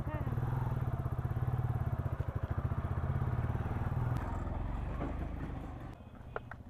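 Motorcycle bike taxi riding through Kolkata traffic, its engine droning steadily and close for most of the stretch before easing off, with brief traffic sounds near the end.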